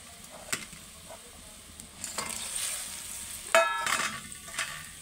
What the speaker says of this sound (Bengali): দেখো ঝোলটা ফুট ধরে নিয়েছে, এবার আমি ওতে দিয়ে দেবো মাছটা।